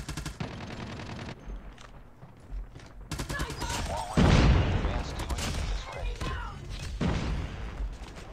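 Call of Duty Mobile gunfire in rapid automatic bursts mixed with thumps and impacts, fairly close and loud, heaviest mid-clip, with game voices and a player talking over it.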